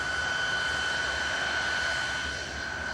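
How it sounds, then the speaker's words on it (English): A Tupolev Tu-134 jet airliner sends out a steady, loud engine roar with a sustained high whine, constant and continuous throughout with no talk. "That's a Tupolev Tu-134 for plane spotters, by the way."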